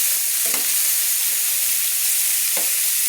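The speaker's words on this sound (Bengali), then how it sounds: "লাল লাল করে ভাজা হয়ে গেছে আমার সমস্ত চিকেনগুলো" Chicken pieces fried red on both sides for Chicken Changezi sizzle steadily in a pan, a continuous close frying hiss with two brief louder crackles, no talking.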